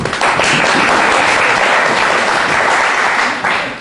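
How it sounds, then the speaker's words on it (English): Sustained applause from an audience, dense and steady clapping that fills the whole stretch before tapering slightly at the end. "give them a round of applause"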